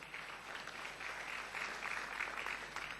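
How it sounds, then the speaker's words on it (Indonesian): Church audience clapping in unison, a continuous crowded patter of many hands that swells slightly midway, heard from some distance with no voices over it. "Yang setuju berikan tepuk tangan."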